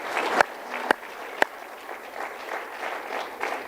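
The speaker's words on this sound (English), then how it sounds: "Please offer a round of applause" Audience applause for harpist Heather Stewart at an alumni medal awards ceremony, a steady broadband patter of clapping hands with three sharp louder claps or knocks standing out near the start.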